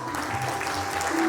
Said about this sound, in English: Let's show our appreciation with a big round of applause.